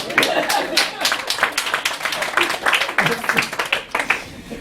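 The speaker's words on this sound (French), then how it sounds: "Est-ce qu'on peut les applaudir?" A crowd at a Montréal bar slam session claps loudly for the children in the room, a continuous burst of many hands with scattered shouts and voices underneath.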